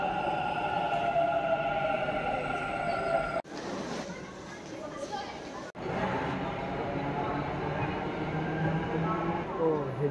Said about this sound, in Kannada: ಈಗ ನಾವಿದ್ದೀವಿ ಇಂದಿರಾನಗರ್ ಮೆಟ್ರೋ ಸ್ಟೇಷನಲ್ಲಿ